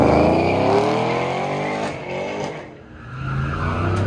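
A 1970 truck with an LT4 engine at an autocross event, its engine revving hard through rising gear pulls and tire squeal as it charges past and crosses the finish line, with the loud roar dipping and then swelling again.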